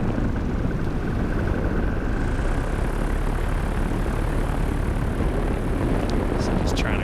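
A paramotor engine runs in flight, a loud, steady propeller roar mixed with rushing wind that stays constant and close throughout, with no talk audible over it.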